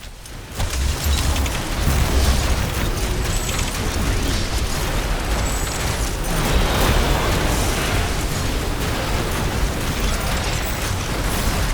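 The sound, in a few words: explosions as a tower is destroyed in The Riftbreaker video game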